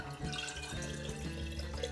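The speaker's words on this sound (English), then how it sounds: "I'm going to pour some of this water in this jar to get all of the" Water from a quart container pouring into a jar of spaghetti sauce, a steady close splashing, gurgling trickle throughout the short stretch, with no voices.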